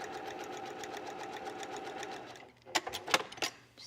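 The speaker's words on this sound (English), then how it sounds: "Stitch right next to it" A sewing machine stitches bias tape trim onto a fragile little black dress, a fast steady whirring chatter that stops partway, followed by a few light handling clicks and taps.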